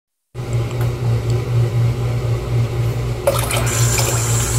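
Tap water runs over frozen beef to defrost it for a beef stew, starting abruptly and then a loud, steady gushing stream that brightens toward the end as the flow hits the meat, with no talking.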